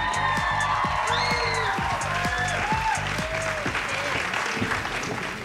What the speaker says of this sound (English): let's give Kit another round of applause.